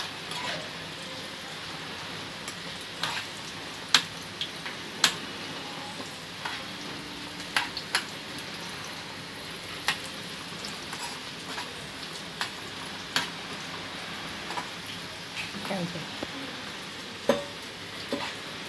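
Bitter gourd frying in a pan crackles softly and steadily, while a spatula stirs and scrapes the pan at repeated sharp moments; nobody talks.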